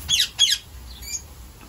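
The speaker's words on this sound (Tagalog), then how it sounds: "Gusto ko lang din i-share ang aming mga natitirang ibon na nandito. These are breeder birds." Breeder birds in a backyard garden let out two sharp, close squawks in quick succession, followed by fainter, thinner calls against a quiet background.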